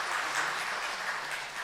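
Congregation applauding during a Sunday Mass in a church, a soft, even wash of many hands clapping heard at a distance with no talk over it.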